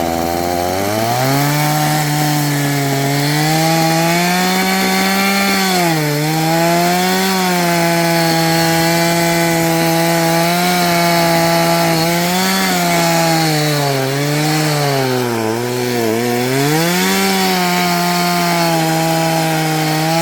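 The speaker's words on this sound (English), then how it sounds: "And here we have a sharp chainsaw." A loud, sharp chainsaw engine drones continuously up close, its pitch rising and dipping as it bogs into and cuts through wood, with no talking.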